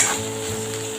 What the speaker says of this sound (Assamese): কাচকলখিনি কোমল নোহোৱালৈকে ভালদৰে ভাজি লৈছোঁ